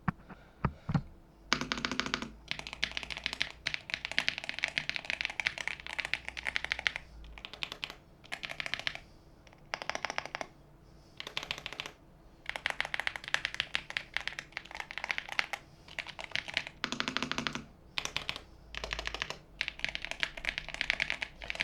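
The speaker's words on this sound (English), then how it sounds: "get as close as I can with the camera and the microphone to the keyboard so you guys can hear how the keyboard sounds like" Steady typing on a MIKIBY K98 mechanical keyboard, close up, with dense bursts of clacky keystrokes broken by brief pauses, continuing for about twenty seconds without talk.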